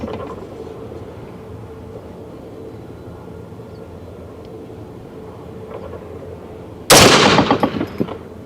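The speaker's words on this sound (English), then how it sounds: "Boy, it's a sweet shooting gun." A .450 Bushmaster rifle with a muzzle brake fires a Hornady 240 XTP-Mag load in a single loud, sharp outdoor shot with a rolling echo, after a steady low background rumble.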